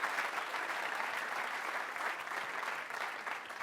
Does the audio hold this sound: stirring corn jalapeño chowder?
no